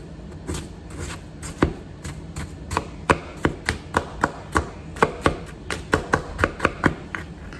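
An ice pick chips at a frozen blue slushy in a bowl, giving sharp close taps that start sparse and become a steady, quickening run of strikes, with no talking.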